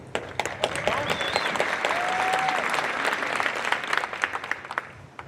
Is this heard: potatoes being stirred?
no